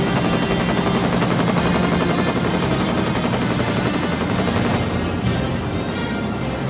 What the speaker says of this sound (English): what I love is this helicopter. This looks formidable today.